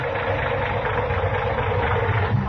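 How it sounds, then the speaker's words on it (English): A tired, worn car engine idles in an old-time radio drama, a steady low rumbling throb that stays close and even with no one talking. "that engine of yours sounds like real tired iron"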